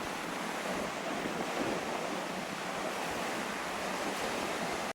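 Steady wind and surf wash over a hotel pier in Chuuk, Micronesia, after a typhoon, a constant dense hiss of waves and breeze without breaks or voices.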